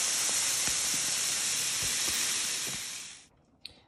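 Dry couscous semolina pours into a dish with a continuous bright granular hiss that holds steady for about three seconds, then tapers off into near silence.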